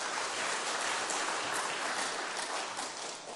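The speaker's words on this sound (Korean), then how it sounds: "박수로 환영하겠습니다." Church congregation clapping to welcome a pastor to the front during a Sunday service, a dense even wash of applause, steady and fairly loud, with no talk over it.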